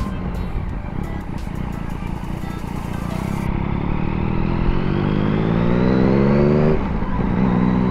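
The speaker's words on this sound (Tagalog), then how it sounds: "So para sa akin, okay na okay yung tunog nito ni MT-09." Yamaha MT-09 motorcycle with an aftermarket exhaust revs up, its loud engine note climbing steadily in pitch over several seconds, dropping briefly, then holding high again.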